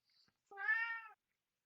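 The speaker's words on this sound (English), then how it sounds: "It's a very talkative cat." A single drawn-out meow from a cat, clear and fairly close but not loud, lasting about half a second after a faint brief rustle, with quiet around it.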